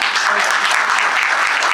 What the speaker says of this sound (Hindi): तो एक बार हमारे पिलर्स के लिए जोरदार तालियां